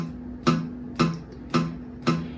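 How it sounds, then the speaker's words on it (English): Four evenly spaced dull, muted plucks of a guitar string fretted without pressing down firmly, short and thuddy with little ringing sustain, played alone at moderate volume. "I'm just muting the string if I'm not pressing down firmly"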